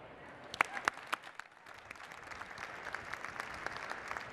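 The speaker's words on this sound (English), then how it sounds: "Let's give him another final round of applause." Scattered applause from a crowd at the 2017 North American International Auto Show charity preview, a few sharp claps standing out early before settling into a steady, moderate patter that continues to the end.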